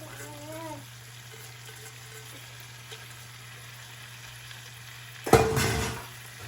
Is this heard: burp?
no